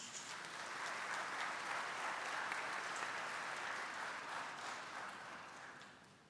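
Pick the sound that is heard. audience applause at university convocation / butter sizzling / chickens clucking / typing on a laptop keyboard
audience applause at university convocation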